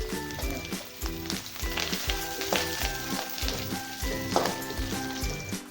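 Onions frying in a pan, a steady close sizzle running throughout with repeated scraping stir strokes and utensil knocks over it, no talking.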